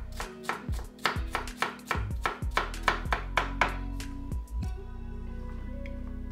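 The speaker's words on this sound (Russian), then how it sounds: "Огурцы нарезаю сперва овалами," A knife slices fresh crunchy cucumbers into strips on a board, a quick run of a dozen or so crisp, close chopping taps that slows and thins out toward the end.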